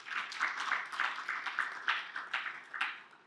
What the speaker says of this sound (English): could we give another final round of applause to our panelists?